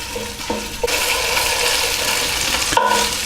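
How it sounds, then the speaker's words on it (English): Tomato puree cooks in a pan with a steady bubbling sizzle, and a couple of brief clatters come near the start and end. "we just really want to just cook out some of the sharpness of the tomato puree"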